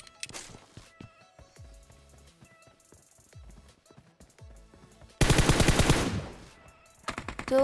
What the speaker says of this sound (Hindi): गन शॉट सुन के ये तो पता चल रहा है कि इधर फाइट हो रही है